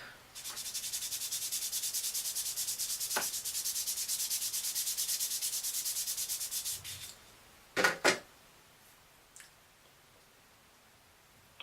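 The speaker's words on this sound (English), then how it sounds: "so let's get the sanding block." A sanding block is worked over a clarinet reed in quick, even rubbing strokes for several seconds, close and crisp. After the strokes stop come a few soft knocks and taps, then quiet.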